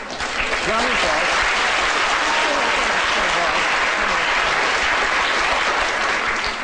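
An audience at a lecture on the brain and magic bursts into loud, dense applause that holds steady for several seconds, with a few voices calling out within the clapping.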